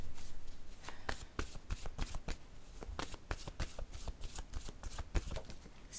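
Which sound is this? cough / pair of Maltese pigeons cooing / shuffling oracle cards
shuffling oracle cards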